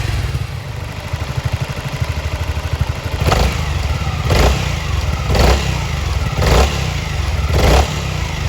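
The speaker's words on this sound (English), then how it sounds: "the second one is the SH350" A Honda SH350 scooter's engine chugs at idle up close, then takes five quick throttle blips in the second half, each rev rising briefly before dropping back; no voices.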